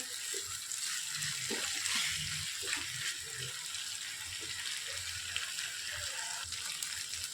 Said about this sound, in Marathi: आता मी मिक्सरच्या भांड्यात थोडंसं पाणी घातलंय आणि ते यात घालते